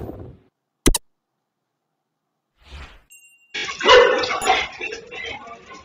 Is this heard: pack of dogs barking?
yes